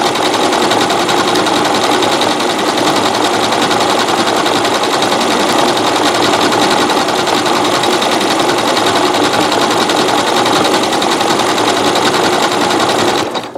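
A sewing machine runs continuously at high speed, stitching a wide decorative satin stitch across a coiled rope bowl, its dense rapid mechanical clatter loud and close throughout.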